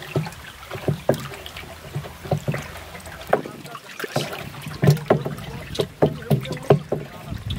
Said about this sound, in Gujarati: લાકડીથી બરાબર એને મિશ્રણ કરી દઈશું પાણી સાથે